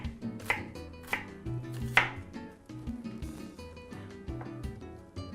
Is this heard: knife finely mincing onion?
yes